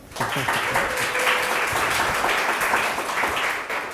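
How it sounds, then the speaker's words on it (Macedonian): Audience applause at a demo day for a circular economy academy, steady continuous clapping from a crowd throughout, fairly loud and close, fading slightly at the end. "Може аплауз за Мац еден?"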